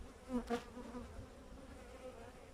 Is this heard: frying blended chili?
no